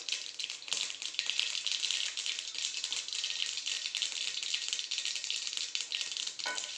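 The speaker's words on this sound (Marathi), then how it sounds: "फोडणी उडाली आहे." Tempering crackles and splutters in hot oil in a pan, a dense, continuous rattling sizzle with sharp pops throughout, close and fairly quiet, with no talk.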